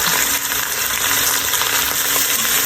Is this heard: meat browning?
yes